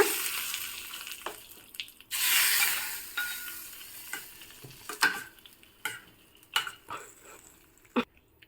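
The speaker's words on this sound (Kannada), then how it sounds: "ನೋಡಿ ಇವಾಗ ಒಗ್ಗರಣೆ ಚಟಪಟ ಅಂತ ರೆಡಿಯಾಗಿದೆ" Crackling oggarane tempering poured into a raw banana gojju for a traditional Havyaka dish: a loud burst of sizzling hiss, then quieter scattered clinks and scrapes as it settles.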